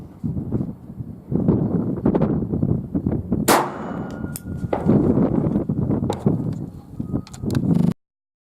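Unsuppressed Smith & Wesson M&P 1522 rifle fires several sharp, loud shots outdoors, each followed by a bright metallic clang from steel targets, irregularly spaced amid wind noise.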